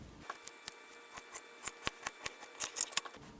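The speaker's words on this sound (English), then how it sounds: "I would cut from the shoulder all the way down here to the bottom." Scissors cut through lined fabric from shoulder to hem for a necklace craft, a quick run of close, crisp snips in a steady rhythm that picks up toward the end, with no talking.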